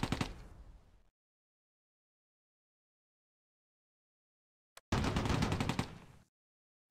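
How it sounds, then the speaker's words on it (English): Tank gunfire in the Close Combat: A Bridge Too Far war game, with a Mark IV tank firing: two loud blasts, each trailing off in a rumbling decay, separated by several seconds of silence. "A Mark IV pops out behind a building and takes a shot at Mulder's Achilles."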